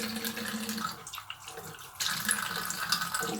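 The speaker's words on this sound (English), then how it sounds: "Go ahead and rinse this off gently." Tap water runs into a sink while a face is being rinsed, a steady close splashing flow that dips briefly in the middle and then resumes at full strength, without voices.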